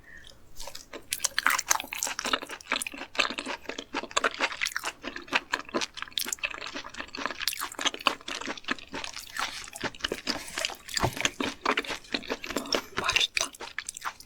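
Close-up, irregular wet chewing and crunching of raw yellow stingray and sashimi, with soft bites and occasional liquid sounds continuing throughout and no talk.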